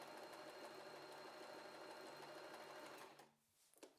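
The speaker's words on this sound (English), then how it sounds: "then I can do top stitching really close to the edge" A W6 N 1800 domestic sewing machine runs steadily while top stitching close to the edge of fabric, a continuous whirring buzz for about three seconds that cuts off, followed by faint handling noises.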